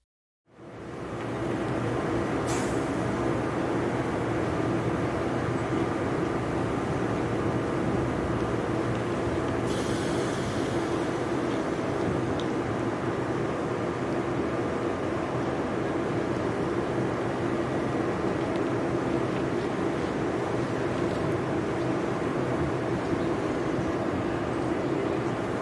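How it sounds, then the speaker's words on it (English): A New Jersey Transit Northeast Corridor Line train passing through Princeton Junction, a steady loud rumble and roar holding for the whole stretch with brief higher rattles, no voices. "That was New Jersey Transit Northeast Corridor Line train number"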